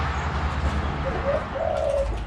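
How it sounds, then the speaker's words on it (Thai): Dove or pigeon cooing in the open at a bird-watching spot in Kumphawapi, Udon Thani, Thailand: two soft, mid-pitched coos in the second half over steady outdoor background noise, with no talk. "ฟังเสียงนก"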